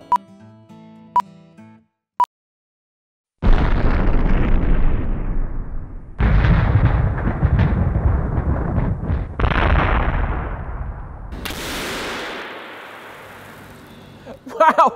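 A pellet gun shot bursts a row of balloons: a few faint clicks, then three loud, broad bursts in quick succession, each ringing out briefly, followed by a rising whine.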